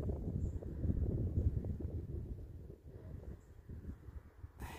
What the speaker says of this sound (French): Ah, et en plus, il y a du vent.